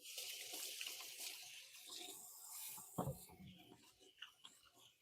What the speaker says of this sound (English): I'm gonna wash up my hands